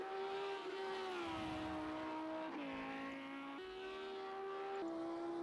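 A Porsche GT3 race car in Project Cars 2 on the Nürburgring Nordschleife: a loud, continuous high-pitched engine howl held at speed, with brief dips and pitch jumps at gear changes, close and dominant throughout.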